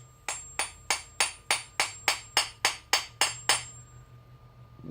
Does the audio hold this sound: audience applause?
no